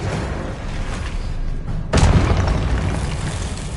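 An Expelliarmus spell strikes in the Hogwarts Legacy video game, landing as a single loud booming impact that rises abruptly out of steady game ambience and then rumbles on underneath it.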